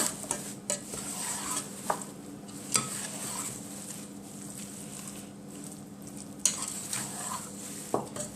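Curry chicken with raw curry added, stirred in a pot over steady sizzling, with occasional sharp utensil knocks against the pot, close and clear, without speech.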